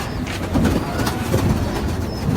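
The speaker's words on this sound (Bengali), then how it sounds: "এখানে আড়াই জোড়া সুপার গ্রিজেল কবুতর আছে" Super grizzle pigeons in a loft give low, soft cooing that carries steadily through the whole stretch, layered over a continuous murmur of other birds nearby.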